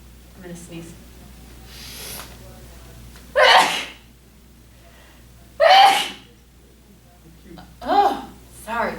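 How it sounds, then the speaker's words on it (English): Three sharp sneezes burst out one after another, loud and close, with quiet breathing and faint background murmur between them. "I'm going to sneeze."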